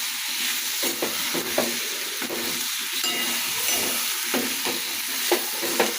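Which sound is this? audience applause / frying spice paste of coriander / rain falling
frying spice paste of coriander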